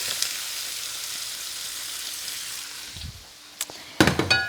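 Sliced Yukon Gold potatoes and leeks sizzle in a hot skillet with a steady, hissing fry, then a few sharp utensil knocks and clatters come near the end.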